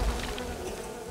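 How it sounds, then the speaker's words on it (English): Bees buzzing in the video game Len's Island, a steady, close insect drone that holds evenly through the whole short moment with no voices over it. "Oi, bees."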